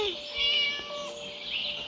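A cat gives a drawn-out meow close by, with a voice faintly audible in the background.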